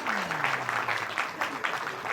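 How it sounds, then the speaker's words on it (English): Audience applause at a children's event, a steady wash of clapping from a crowd that runs for about two seconds without a break. "round of applause for Avyan over here."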